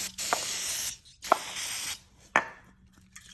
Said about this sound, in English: Got some carb cleaner here. Going to go ahead and put it on the rag